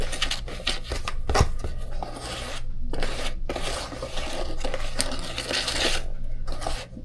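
Cornbread batter is mixed by hand in a bowl, giving a steady, close rasping and rubbing churn with brief pauses and a louder knock near the start.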